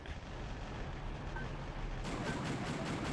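A dull, rumbling wash of distant explosions in the video game Metal Wolf Chaos XD, swelling louder partway through into a sustained roaring blast.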